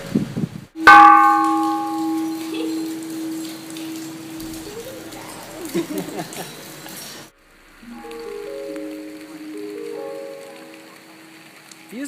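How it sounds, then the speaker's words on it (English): A temple bell on misty Mandalay Hill is struck once, ringing out loud and close and decaying slowly with a rainy patter behind, then a second softer bell tone sounds later. "do you want to ring the bell?"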